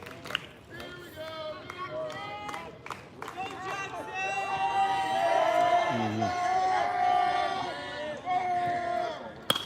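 Spectators at a high school baseball game keep up a noisy din of shouting and hollering voices. The crowd swells louder in the middle, with a few claps and babble underneath.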